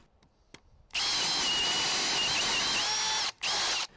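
A power drill fitted with an Irwin Speedbor paddle bit whines loudly as it bores into wood, running steadily for a few seconds, stopping briefly, then spinning up again.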